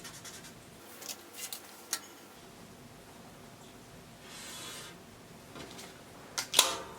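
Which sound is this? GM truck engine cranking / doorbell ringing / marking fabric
marking fabric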